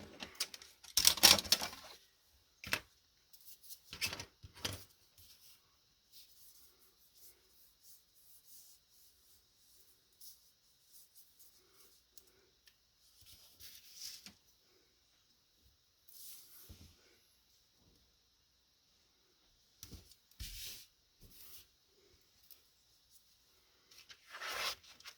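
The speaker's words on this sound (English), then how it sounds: "we're going to put tape on our spine piece" Short bursts of tape being pulled and pressed onto a Tyvek spine piece for a ceremony album, with ripping and rubbing sounds close by, separated by quiet gaps.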